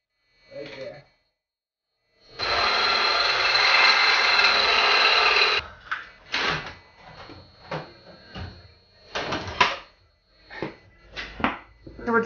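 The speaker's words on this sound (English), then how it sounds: "So we're drilling this back hole over here" A power drill bores a hole into a 2006 Jeep Grand Cherokee 5.7L WK during a lift kit install. It gives one sustained whine of about three seconds, followed by short bursts, clatter and a brief voice.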